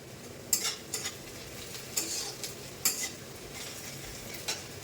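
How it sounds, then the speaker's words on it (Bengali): Onions sizzle softly in a pan, with cumin fried earlier, while a utensil scrapes and stirs in several short bursts, quiet and close. "পেঁয়াজ কিছুটা ভাজা হয়ে গেছে"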